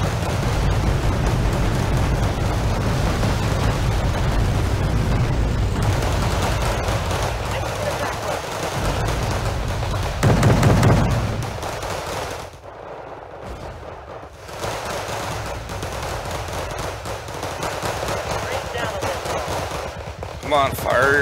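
Battle in the video game Team Yankee, with a dense, loud roar of artillery, machine-gun bursts and explosions that goes on almost continuously, briefly thins out midway and then resumes, with voices talking over it at times.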